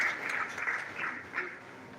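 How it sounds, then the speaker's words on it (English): An audience applauds at an actuarial science advocacy outreach event after the introduction of the Executive Secretary and CEO of the Financial Reporting Council of Nigeria: steady, moderate clapping from a crowd, with no talk. "Please, another round of applause for him."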